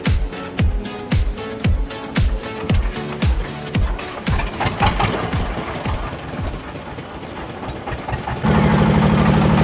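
A motor engine on a river crossing boat chugs in a steady, loud rhythmic knock, shifting into a smoother, higher drone near the end, with no talk.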